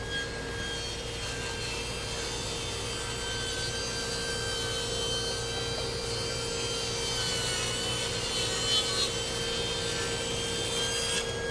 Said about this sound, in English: Then I'll get my crosscut sled out and we'll go to 26 1/4 and catch the ends.